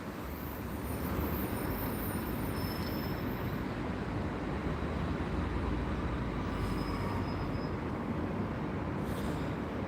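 A Class 150 diesel train passing at Gloucester, a steady broadband rumble of wheels on rails that holds evenly throughout, with faint higher squeals now and then.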